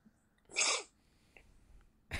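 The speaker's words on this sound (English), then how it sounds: "you hear me sniffling" A man gives one sharp, close sniffle, followed by faint small breathing noises and quiet room tone.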